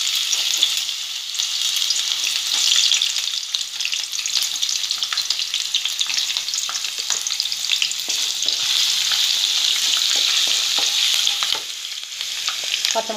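Chopped ginger and garlic fry in hot oil for chilli chicken, giving a steady, dense sizzle that holds for the whole stretch with small crackles and stirring scrapes scattered through it.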